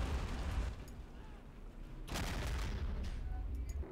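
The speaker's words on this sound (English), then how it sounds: "I'm going to shoot my big artillery piece" In the Men of War: Assault Squad 2 strategy game, set in a Peleliu airfield defense, a heavy boom sounds partway through, amid continuous rumbling battle noise and crackling distant gunfire.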